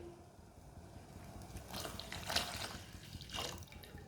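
Milk is poured from a glass into boiling kahwa tea in a pot, a quiet liquid splashing and gurgling that swells in two bursts over low background noise.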